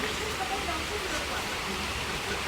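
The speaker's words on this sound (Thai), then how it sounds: "ฝนมา อาจจะตกหนักอยู่นะเนี่ย" Heavy rain falls at night in Bangkok, a dense, steady hiss of downpour that fills the whole moment without a break.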